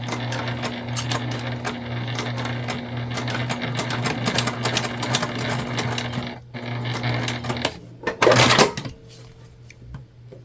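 A sewing machine stitches a fabric candy bag through bulky layers, running steadily for about six seconds with a low motor hum and rapid needle clatter, then stopping before a brief louder burst of handling noise.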